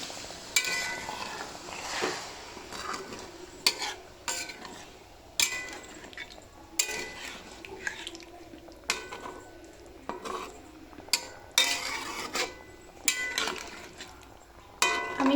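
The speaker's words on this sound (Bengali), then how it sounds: "একটুখানি জল দিয়ে দেবো জল দিয়ে আস্তে করে একটু নাড়া দিবি" Hilsa fish curry being stirred in a pan after a little water is added, soft intermittent scraping and clinking of a spoon against the pot over a low simmering sizzle, quiet and close.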